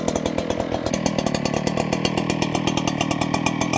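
An Echo PB-9010T backpack leaf blower's two-stroke engine runs at a steady idle right after being pull-started, a loud, close, rapid pulsing putter that holds even throughout with no talking.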